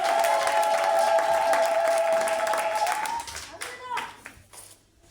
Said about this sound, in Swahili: Pigie Bwana Yesu makofi mazuri.